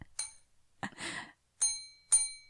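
A podcast's bell sound effect rings out as three bright chime strikes with ringing tails, separated by a short burst of breathy noise between the first and second strikes.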